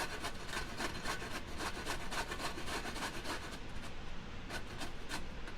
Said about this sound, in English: we're gonna grate a carrot. So I have my box grater